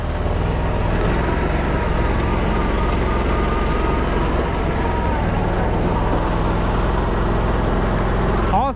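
Steady low engine drone of an Argo 6x6 amphibious vehicle idling on a swamp ride in the woods, loud and close with a continuous rumble and wavering tones, and a voice talking over it.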